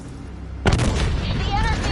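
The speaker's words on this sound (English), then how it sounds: "Launched a missile barrage." A sudden heavy boom from a missile barrage in Call of Duty Black Ops 3 cuts in after a quiet moment, followed by rolling rumble and debris, loud and close.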